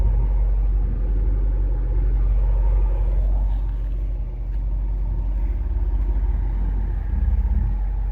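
2010 Dodge Challenger SRT-8 with a V8 and Corsa performance exhaust, idling with a deep, steady rumble that stays loud and close throughout, with no talk.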